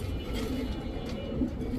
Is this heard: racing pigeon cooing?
yes